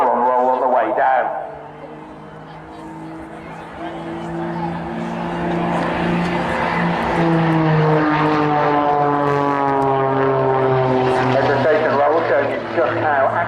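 Propeller aerobatic aircraft performing flick rolls and aileron rolls at the Teignmouth airshow, a steady engine drone with shifting pitch throughout, fairly loud and continuous, with a commentator talking over it.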